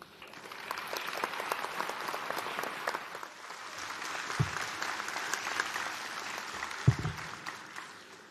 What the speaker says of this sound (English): I think we need evidence of that cheer from the graduates.